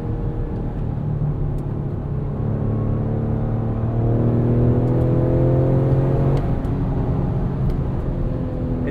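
A 2021 Ford Explorer ST SUV accelerates hard from inside the cabin, its engine drone rising steadily through the gears with a brief dip at a shift, loud and continuous with no talk.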